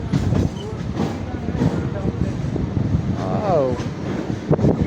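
A passenger train running slowly from Egmore toward Central in Chennai, heard from on board as a steady low rumble with wind buffeting and faint rail clatter, close and fairly loud, with a few voices mixed in.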